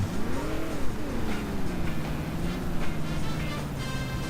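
A cartoon car accelerating in the video game Simpsons Hit and Run, a steady revving engine tone rising and easing over continuous game noise, with no talking.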